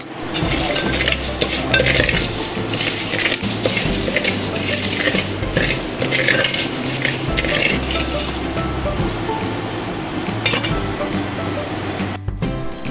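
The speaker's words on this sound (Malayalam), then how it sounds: "ചെറുപയർ പരിപ്പ് മൺചട്ടിയിലിട്ട് ഒന്ന് വറുത്തെടുക്കാം." Green gram dal dry-roasting in a clay pot, stirred continuously with scraping and clinking strokes against the pot, loud and close throughout with no talking.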